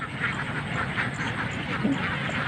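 Ducks on a free-range duck farm in the Philippines, with soft quacking mixed into a steady, noisy outdoor din that holds throughout.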